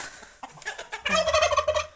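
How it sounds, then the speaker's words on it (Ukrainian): Turkeys gobble repeatedly in loud, warbling bursts that build into an overlapping chorus close by, on a farm in Lviv Oblast, Ukraine. "О, індики."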